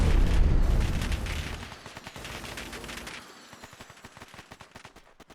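Rapid gunfire from Fallout 4: a loud burst of shots and blasts at the start, then a long string of sharp, evenly spaced cracks that grow fainter and more distant, with no talk.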